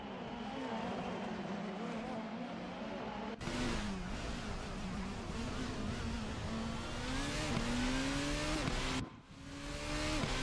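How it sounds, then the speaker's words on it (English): Formula racing car in a racing video game at the Sepang circuit, a high, loud engine whine rising and falling through gear changes as it accelerates, heard from onboard and continuing throughout. "Going on board, Yu Cheon's number 61 Takane Lui Formula Hololive car"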